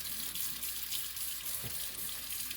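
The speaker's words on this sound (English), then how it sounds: "I'm going to wet my dish towel." Water from a kitchen tap runs steadily into a sink to wet a dish towel, a constant close hiss and splash with a faint clunk partway through and no speech.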